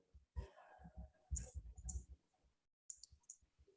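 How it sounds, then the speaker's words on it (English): Scissors snip at fly-tying materials, a few sharp, quiet clicks spread irregularly over a few seconds. "So I go in here with my scissors and I trim off anything that's sticking up to the top."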